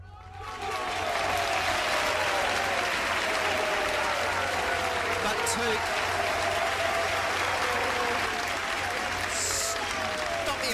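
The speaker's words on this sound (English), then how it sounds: "Stop the applause." Loud, continuous studio audience applause rolls on for over ten seconds, a dense steady roar of clapping with a voice talking and calling out underneath it.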